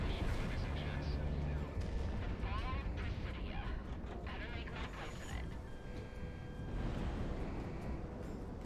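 Aircraft cannon fire from an F-14 in the combat flight game Project Wingman, a dense sustained rattle of gunfire and booms over a continuous jet roar for several seconds, with people talking over it.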